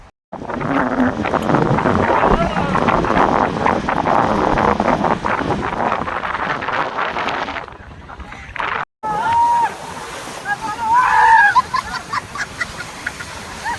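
Strong wind at the seashore in Kutch buffets the microphone in loud gusts for several seconds, then drops away; faint voices and outdoor sounds follow.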